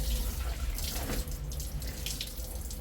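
Tap water runs steadily into a sink while Kashmiri embroidered curtains are washed by hand, a continuous close splashing flow with brief dripping and sloshing and no talk.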